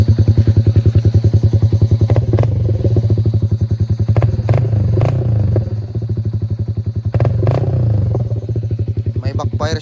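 Yamaha Sniper 155 scooter-style motorcycle with an Akrapovic aftermarket muffler and stock ECU, idling close and loud with a steady throbbing putter, broken by a few sharp popping backfire cracks.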